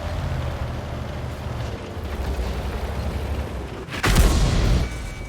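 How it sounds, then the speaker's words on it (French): Tank cannon fire in World of Tanks: one heavy, booming blast lands about four seconds in and rumbles for nearly a second over steady battlefield ambience, with no talking. "c'était les canons AM ou je sais pas quoi là?"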